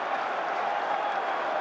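A cricket crowd at Lord's cheers and applauds Darren Gough as he bats in the England vs Australia NatWest final. The roar is a steady, distant wash with no distinct individual claps.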